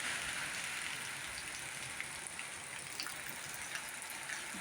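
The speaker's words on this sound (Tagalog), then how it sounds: "Lakas ng ulan. Iba na talaga sa Kuwait." Heavy rain pours down in Kuwait, a steady dense hiss of drops hitting surfaces with faint scattered patters, close and continuous with no talk.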